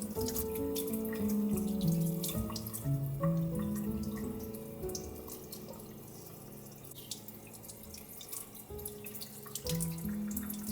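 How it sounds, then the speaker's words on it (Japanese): Running tap water splashes steadily over red sea bream as each fish is rinsed by hand in a sink, a close continuous stream with shifting tones as the fish move under the flow. "下処理として魚を一つ一つ丁寧に水で洗っておく。"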